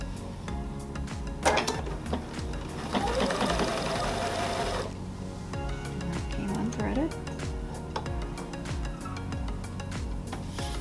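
Sewing machine stitching a fabric panel, its rapid mechanical needle chatter running steadily up close with brief pauses and handling clatter, while a person talks throughout.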